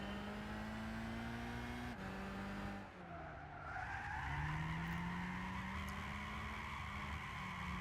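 A budget drift car in Gran Turismo 6 revs its engine with a steady droning whine while tires squeal and skid through slides, a brief lift and gear change midway before the engine climbs again.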